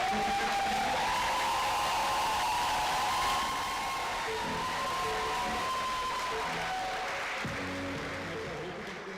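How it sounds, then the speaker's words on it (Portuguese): Audience applause and cheering at a televised event, a dense crowd roar that is loud at first and gradually fades, with some whoops mixed in. "Um aplauso para a Paloma"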